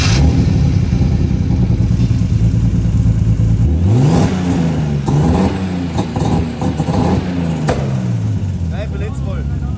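A turbocharged BMW E36 323 on a dyno starts loud and steady, then revs up and down in repeated climbing sweeps, close and strained, with voices faintly under the engine.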